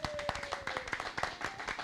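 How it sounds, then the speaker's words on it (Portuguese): A small group claps at the close of a podcast episode, a brief, fairly faint patter of hand claps with a few distinct strokes and a faint tone underneath. "Quero uma salva de palmas, por favor."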